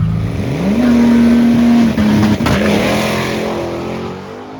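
A Nissan GT-R launches down a quarter-mile drag strip, its engine note climbing then holding a loud, steady high drone before shifting and fading as the car pulls away.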